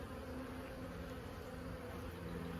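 Honeybees drone steadily around an open hive during a sunset inspection on a farm, a dense, continuous buzz close by with no voices.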